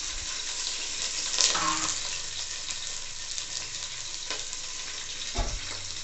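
Onions sautéing in a pan for mushroom biryani give a steady close sizzle, broken by a few brief stirring scrapes and clinks, with no one speaking.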